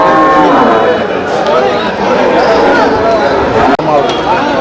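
Dairy cattle at the Melapalayam cattle market low and moo among a dense, loud crowd of chattering voices, with continuous bustle and overlapping talk throughout.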